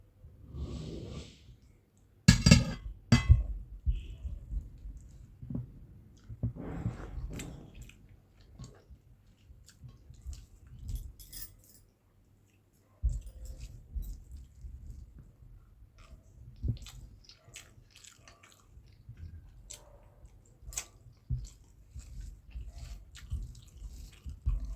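Eating a vegetarian meal of pulao with potato and paneer curry: close, wet chewing and squishy mouth sounds with small clinks, continuing irregularly throughout with a brief quiet pause partway.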